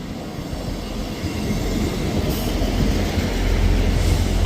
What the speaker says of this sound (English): arriving in at the same time is the 1157 Scotrail service from Edinburgh Waverley to Perth